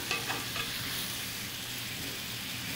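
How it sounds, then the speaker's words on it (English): Shrimp and calamari stir-fry with sauce in a hot pan, giving a close, steady, bubbling sizzle with a few quick clatters of stirring near the start. "Once we put everything in with the sauce, stir fry a little bit"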